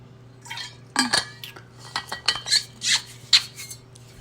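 Dishes and cutlery clink and clatter while a glass of water is fetched indoors, a close series of sharp irregular knocks and chinks against a low steady hum.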